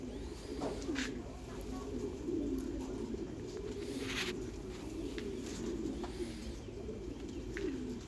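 Thai meat pigeons on a farm coo steadily in low, overlapping murmurs, with a few faint chirps and scattered clatter from the coop over a continuous background.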